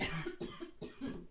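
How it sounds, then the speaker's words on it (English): A person coughs repeatedly in a short fit, three or four harsh, closely spaced bursts, loud and near, with no talking. "a bit of a coughing fit"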